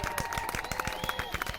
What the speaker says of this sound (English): Everybody, round of applause for Jablonski for doing a good job and not failing that one there.